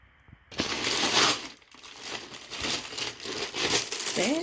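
Plastic bag of LEGO Friends stable set pieces being opened and rummaged, a close, continuous crinkling and rustling with loose bricks shifting and clicking inside, no talking over it.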